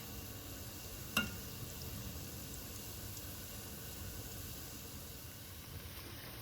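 Donuts laid face down in hot oil give off a faint, even sizzle and hiss, with a single soft clink early on and no talking.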